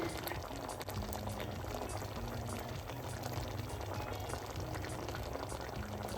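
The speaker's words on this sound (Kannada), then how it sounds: "ನೀವು ನೋಡ್ತಾ ಇರ್ಬೋದು ಇವಾಗ ಇದು ಚೆನ್ನಾಗಿ ಕುದೀತಾ ಇದೆ" Methi dal made with fenugreek leaves and lentils bubbles steadily in a pot, a continuous close simmering gurgle with no pauses.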